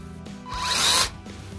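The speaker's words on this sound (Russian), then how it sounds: "она просто своим весом опускается и пилит" A Makita cordless chainsaw cuts through wood under its own weight, the motor rising into a loud, whining bite for about half a second before dropping back to a quieter idle hum.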